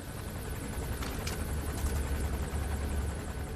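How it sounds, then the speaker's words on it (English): A helicopter in Metal Gear Solid 5: The Phantom Pain drones overhead with a deep, constant rotor rumble and a thin high whine, holding at a steady moderate level with no one speaking. "Oh, that helicopter's messing my shot up."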